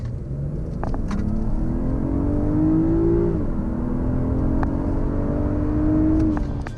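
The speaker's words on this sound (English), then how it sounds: "Let's do the 30 to 70 sprint and see how she does." A BMW 840i Gran Coupe with the B58 engine pulls hard in a 30 to 70 sprint, its steady engine note rising through the gears with a shift dip partway, loud and continuous from inside the car.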